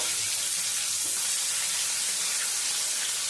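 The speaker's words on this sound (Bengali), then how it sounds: "মাছটা সুন্দর করে এপিট ওপিট করে ভেজে নেব।" Loud, constant hiss of fish frying in oil, a dense unbroken sizzle filling the whole stretch with no talking.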